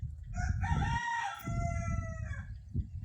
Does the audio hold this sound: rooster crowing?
yes